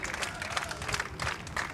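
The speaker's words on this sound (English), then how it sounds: "it's a big round of applause from the Kiwi contingent in the crowd" Spectators at a Commonwealth Games women's pairs lawn bowls match between New Zealand and Northern Ireland applaud steadily, a dense patter of clapping from a distant outdoor crowd that continues throughout.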